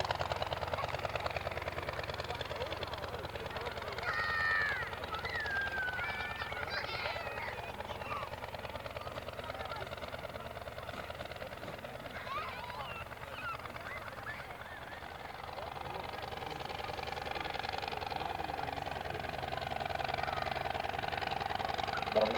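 A castor-oil-lubricated early aviation aircraft engine at an evening air display drones steadily at a distance for the whole stretch, with people talking nearby over it.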